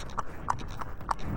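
Horse hooves clip-clop in a steady, evenly spaced rhythm, four clear strikes over a brief stretch, set against a constant low background rumble with no voices.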